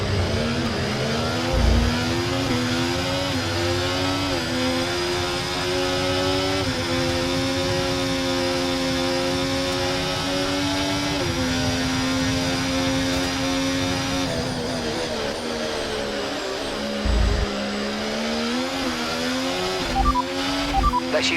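A Formula 1 car engine in the F1 24 racing game at Abu Dhabi holds a steady high whine, its pitch rising and shifting through gear changes as the car races on, loud and continuous throughout.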